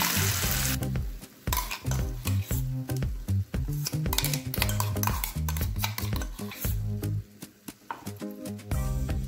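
A ground paste of puffed rice is added to a hot pan for shahi paneer and fries with a steady, loud sizzle, with frequent clinks and scrapes of a spoon stirring against the pan and no voices.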